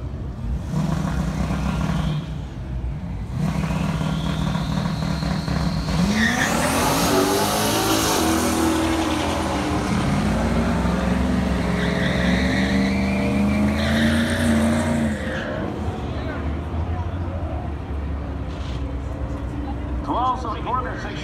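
A Ford Mustang races down the drag strip lane. Its engine revs and roars loudly with rising and falling pitch and a brief tire squeal, while a commentator talks over the noise throughout.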